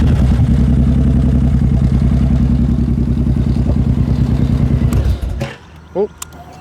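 A 2009 Suzuki M90 motorcycle engine idling loud and close with a steady throbbing rumble, then cutting out abruptly near the end, followed by faint clicks.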